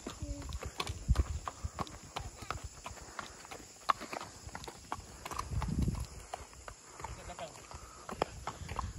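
Horse hooves clip-clop at a riding venue in Colmar Tropicale, Bukit Tinggi, a scattered run of light steps mixed with general outdoor noise while people talk over them.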